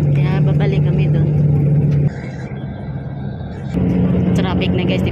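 Road traffic on EDSA in Metro Manila, a steady low rumble of cars and engines with voices talking over it, easing briefly in the middle before swelling again.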